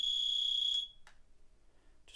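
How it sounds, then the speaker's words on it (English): A Letterbox Sentry letterbox alarm unit sounds a loud, shrill, steady electronic tone for under a second, then cuts off, followed by two brief, fainter chirps in a quiet room. "After 2 minutes, the unit will silence"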